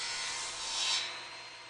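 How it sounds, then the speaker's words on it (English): Table saw ripping straight through the top of a wooden table leg, a steady close hiss of blade through wood that swells briefly midway and holds to the end, with no talking. "The top of the legs is not actually tapered, so I'm cutting that part straight on the table saw."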